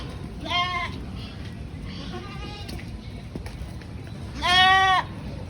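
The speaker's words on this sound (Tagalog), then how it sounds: "Nakain kambing yan, si Botchok." A goat bleats while eating, two clear harmonic calls a few seconds apart with a fainter one between, close and fairly loud.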